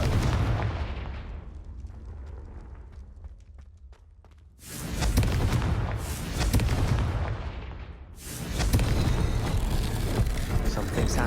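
A Confringo spell in a wizarding video game bursts as a loud, full-band blast, followed by rumbling gameplay noise and a second heavy burst, with surges repeating across the stretch.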